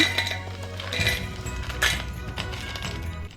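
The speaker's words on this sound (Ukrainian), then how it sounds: "Висипаємо в кастрюлю з товстим дном." Frozen raspberries tipped into a thick-bottomed pot for a coulis, a close scatter of light clinks and rattles against the metal with a faint background hum.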